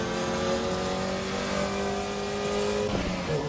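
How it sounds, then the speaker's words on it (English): A race car engine in the racing game Assetto Corsa EVO drones steadily with harmonic whine, then a sharp shift near the end as the brakes lock up with a brief squeal. "the most important sound in this car is those brakes locking up."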